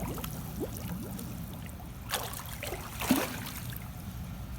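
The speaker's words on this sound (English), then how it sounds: "let's see how I'll dip my head underwater" A swimmer without a cap dips their head into cold open water during a blizzard, giving a couple of soft splashes and trickles over a steady low outdoor rumble.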